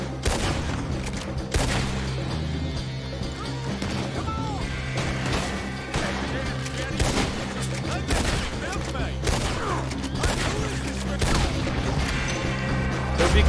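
Gunfire in Red Dead Redemption 2, a Wild West video game: repeated loud shots and crashing impacts in a dense, busy fusillade over a music bed, with talk mixed in.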